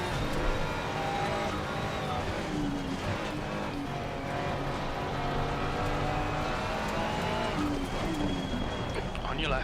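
Race car engines drone continuously in the racing game Assetto Corsa Competizione, a dense steady roar with shifting revs from several nearby cars, with a driver talking over it.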